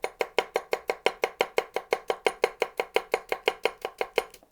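An Enso Ko-Bunka knife chops Brussels sprouts for slaw on a board, giving about twenty-five crisp, evenly spaced cuts in a steady, quick rhythm, close and clear with no voices.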